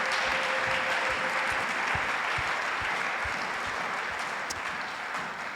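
A church congregation applauding for Jesus, steady dense clapping from the whole crowd sustained throughout, loud and continuous with no talk over it.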